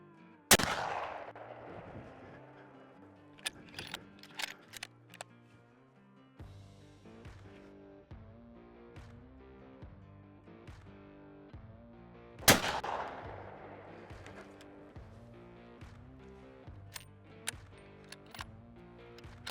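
A rifle gunshot rings out during a moose hunt on a West Kootenay trapline, a single loud sharp crack with a decaying tail, followed later by another sharp report amid quieter clicks and background noise.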